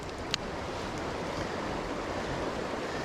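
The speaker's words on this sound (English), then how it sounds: "You can see that rolling water there." Rolling water of a Catskill Mountains stream rushes in a steady, broad wash of noise, fairly loud and constant, with a faint tick near the start and no voices.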